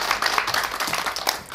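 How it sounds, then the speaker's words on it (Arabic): A round of applause from a group of children for a boy named Akram, a dense, steady patter of small hands clapping close by for about a second and a half with no pause. "تصفيقة تصفيقة على أكرم تصفيقة"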